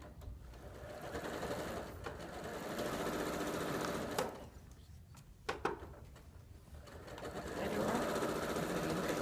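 A sewing machine stitching a quarter-inch seam on quilting fabric, its fast mechanical whirr running in bursts with a brief pause midway, fairly quiet and close.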